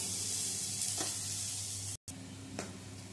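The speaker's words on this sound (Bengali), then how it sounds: "এবারে কাঁচা লঙ্কা পেঁয়াজ ভালো করে ভেজে নিতে হবে।" Green chillies and chopped onion fry in oil for a traditional Bengali greens dish, giving a steady close sizzle with a soft stirring scrape near one and two and a half seconds and a brief dropout just after two seconds.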